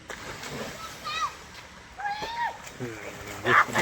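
Boys jump into a canal in Punjab, splashing water in several bursts beneath nearby children's voices and chatter, with light sloshing between the splashes.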